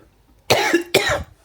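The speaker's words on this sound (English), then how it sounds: "That cough is still there" Two harsh, close coughs from a man in a Beijing hutong guest room, each lasting about a third of a second with a short pause between, against a quiet background.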